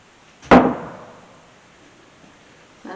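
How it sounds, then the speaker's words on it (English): A hospital door swings shut with one sharp, loud thud that rings out in a long reverberant echo through an empty room, fading over about a second. A faint sound follows near the end. "Door's gonna close behind me."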